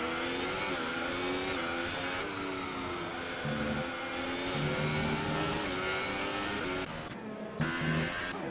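Formula 1 race cars in the video game F1 2018 hold a continuous high-pitched engine whine, with shifting pitch as the cars accelerate and pass.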